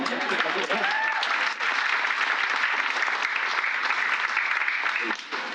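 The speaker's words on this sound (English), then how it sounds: "You can clap on that." Graduation ceremony audience applauding steadily for several seconds, a dense wash of clapping with a brief dip midway, and a voice rising over it near the start.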